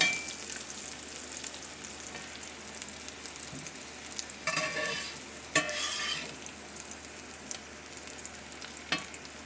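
Kohlrabi sizzles steadily in a skillet, a continuous fry hiss with a few louder scraping stirs and clatters of the pan along the way, close and without talk.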